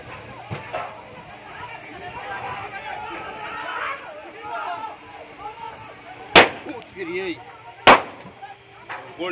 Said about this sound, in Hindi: गोली चल गई, अब गोली गोली चल गई।